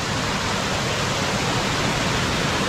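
A waterfall at Serra da Itacoatiara in Itapipoca, Ceará, feeding a natural bathing pool, roars as a dense, steady wash of rushing water, loud and constant throughout.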